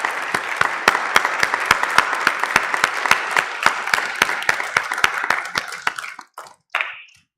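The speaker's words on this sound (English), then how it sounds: "Can we get a round of applause for our leaders?" Audience at a bail reform community forum applauding elected leaders, a steady, fairly close, rhythmic clapping from a modest crowd that carries on evenly, then thins and stops near the end.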